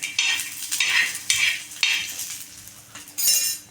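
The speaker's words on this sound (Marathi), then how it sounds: "बघा आपण असं भाजून घ्यायचं हिरव्या मिरच्या आणि शेंगदाणे लसूण" Green chilies, peanuts and garlic crackle and sizzle as they roast in a hot pan while a spoon stirs and scrapes in repeated bursts, close by, with no voices.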